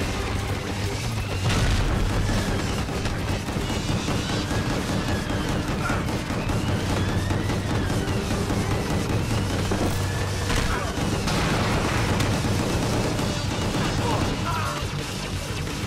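Gunfire and explosions from the action game Gungrave G.O.R.E., dense continuous shooting with booms and crashes layered throughout, loud and busy from start to finish, with a person talking intermittently over the combat.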